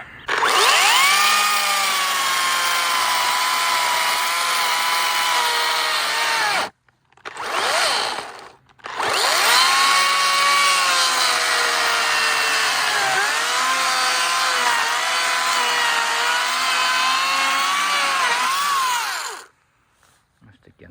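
A loud Makita DUC254 cordless chainsaw whines steadily as it cuts through rotten wood, dropping out briefly once before revving again and stopping near the end.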